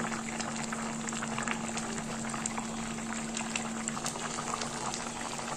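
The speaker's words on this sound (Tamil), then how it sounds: "இப்போ பார்த்தீங்கன்னா நல்லா கொதிச்சு சுண்டி இருக்குது." Crab pepper gravy boiling and reducing in a pot gives a steady, close bubbling and simmering sound that runs evenly throughout with no talking.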